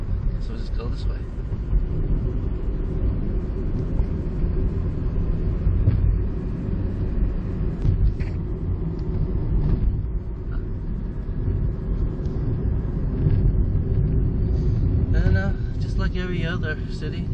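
Continuous road traffic in Tijuana rumbles heavily from inside a moving vehicle, a dense low drone of engines and tires with occasional passing sounds, and a voice talks over it near the end.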